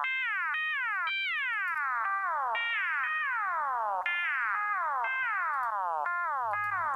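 Synthesized sound from a downloaded VST plugin with Maschine Metaverb reverb added: a repeating series of bright, downward-sliding tonal sweeps with a roomy tail, forming a steady rhythmic pattern on its own.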